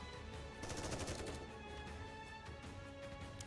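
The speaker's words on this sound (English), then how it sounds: "Mori fires a barrage of bullets at Gluttony's battered body." A barrage of gunfire from Mori in the game Nikke, rapid bursts of shots crackling in a dense volley that peaks early and then trails off into scattered fire.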